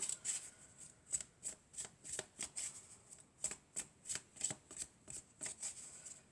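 Oracle cards being shuffled by hand in a steady run of crisp riffling bursts, close and fairly quiet, with no voices.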